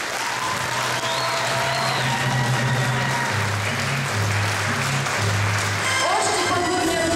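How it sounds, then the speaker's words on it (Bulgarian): Stormy audience applause fills a hall at a Bulgarian diaspora gathering in Ukraine, sustained and dense throughout, with music or a low hum underneath and scattered cheering near the end. "Още по-бурни аплодисменти."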